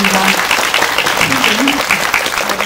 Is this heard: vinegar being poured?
no